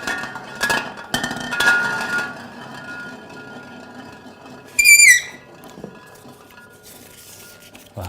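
A single short, high squeak from the lot-drawing mechanism at the CEV Champions League volleyball final-phase draw, sliding downward in pitch over about half a second and rising clearly above a quiet room with faint background clatter.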